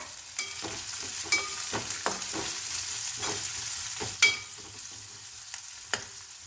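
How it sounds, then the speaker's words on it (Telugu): Onions with salt and green chillies sauté in a pan, a soft continuous sizzle broken by repeated close spatula scrapes and knocks against the pan at an irregular pace, with no one speaking. "ఇలా మధ్య మధ్యలో కలుపుతూ ఉండాలి లేదా మాడిపోతాయి"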